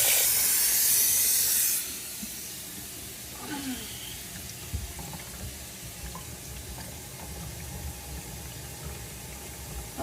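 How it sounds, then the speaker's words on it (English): Tap water rushing into a bathroom sink fitted with a push-down pop-up drain, a loud hissing stream for about two seconds that drops to a softer, steady trickle with faint splashes and low background noise. "We're going to run the water in till it goes all the way over here to the overflow."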